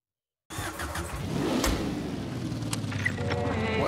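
A car engine turns over and catches after a brief silence, then settles into a steady, close running hum as the car prepares to drive off.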